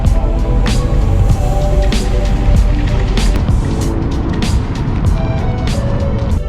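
A Subaru BRZ with an aftermarket exhaust and a K&N intake gives off a loud, unbroken low droning rumble, heard up close with no one talking.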